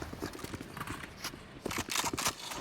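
Footsteps during a Valorant Champions 2023 esports match: quick, rhythmic thuds from players pushing forward, fairly close, rising louder toward the end amid game noise.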